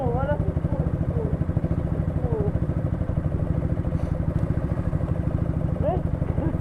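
A new motorcycle with a loud exhaust idles nearby in a steady, throbbing low rumble, while people talk over it.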